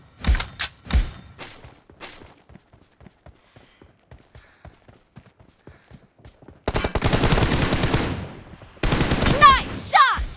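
Rapid bursts of gunfire from the BGMI mobile battle royale game, with sharp single shots early, then sparse regular pops, and dense sustained automatic fire near the end, loud and close.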